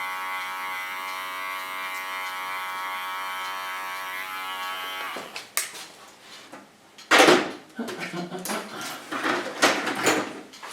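An electric hair clipper hums with a steady, even buzz for about five seconds while trimming hair in a salon, then gives way to rustling, handling knocks and faint voices.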